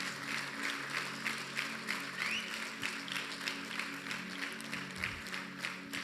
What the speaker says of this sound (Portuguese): Quem pode aplaudir o Senhor por isso, em nome de Jesus?